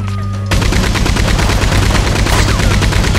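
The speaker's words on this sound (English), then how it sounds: "Oh, get on the Gatling gun!" Gatling gun firing in Red Dead Redemption 2, a loud, sustained stream of rapid automatic gunfire that starts abruptly after a short lead-in and pounds on without pause.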